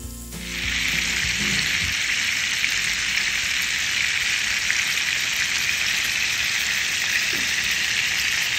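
Duck breast sears in rendered duck fat in a hot skillet, a loud, steady sizzle that starts abruptly and holds constant throughout, with no voices over it.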